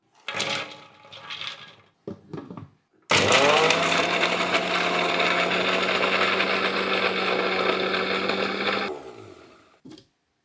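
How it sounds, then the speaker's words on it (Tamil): An electric mixer grinds roasted makhana lotus seeds for a milk payasam, starting with a few short bursts, then a loud steady whirring run of about six seconds that stops abruptly, with no talking. "இதில் பாதி மக்கானாவை பார்த்தீங்கன்னா முழுசாகவும், பாதி மக்கானா வந்து அரைச்சி தாங்க பாயசத்துக்கு சேர்க்க போகிறோம். இப்போ அரைச்சி எடுத்துக்கலாம்."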